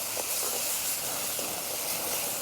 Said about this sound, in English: And now we're going to add in the garlic. In that high heat, the garlic is going to cook beautifully.